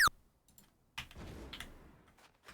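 Computer keyboard keys are pressed repeatedly, accidentally turning on sticky keys. A sharp rising chime sounds at the start, then a scatter of soft clicks and thuds follows at close range, with no speech.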